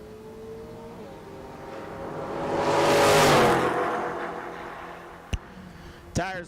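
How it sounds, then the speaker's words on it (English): Drag race cars, including a Mustang, run down the strip, the engine roar swelling to a loud close pass and fading, followed by two sharp cracks near the end. "Tires squealing all the way down the stretch."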